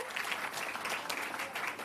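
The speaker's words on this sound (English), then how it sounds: "Give them a round of applause." A short, fairly faint round of audience clapping at a school heritage competition awards ceremony, an even wash of many hands with no speech over it.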